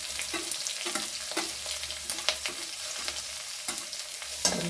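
Sliced onions sautéing in hot oil with ginger and green chili produce a bright, steady sizzle, punctuated by rhythmic spatula scrapes and taps against the pan, close up and with no talking.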